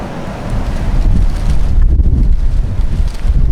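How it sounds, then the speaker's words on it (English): Strong wind gusts buffet the microphone in a steady low roar, swelling louder midway, with no voices. "God, it's windy, isn't it?"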